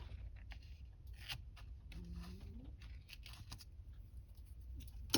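Scissors snip bits off paper for a junk journal in a few quiet, close cuts, with light rustling and scraping of paper between them in an otherwise still room.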